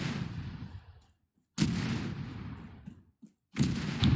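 Incoming artillery rounds in ArmA 3 crash in as three heavy, loud blasts, each a sharp broadband impact with a rumbling decay, separated by brief near-silent gaps.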